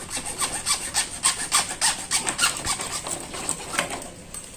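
A hand saw cuts through PVC pipe for the frame of a DIY canvas fish pond, with steady, rhythmic back-and-forth rasping strokes, close and loud with no talk.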